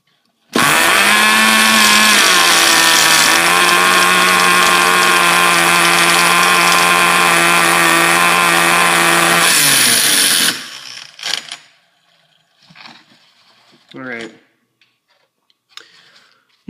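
A small RC car engine sputters to life and runs at a loud, steady buzzing whine for about ten seconds, then cuts out, leaving scattered faint clicks and rattles.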